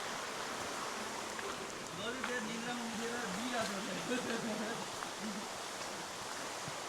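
A small forest stream flows with a soft, steady hiss and gurgle, quiet and continuous, while a faint voice murmurs briefly in the middle.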